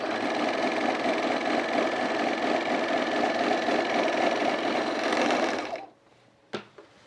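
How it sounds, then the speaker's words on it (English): A sewing machine stitching the pieces of overall pants together, a loud steady mechanical whir running for several seconds before stopping abruptly, then a faint click. "I just started sewing the pants together."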